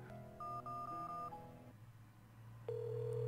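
In the mobile game Replica, a phone call goes out: a run of quiet electronic keypad beeps, a short pause, then a steady ringback tone, with no voices over it.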